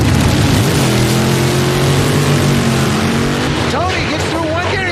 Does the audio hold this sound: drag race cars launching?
yes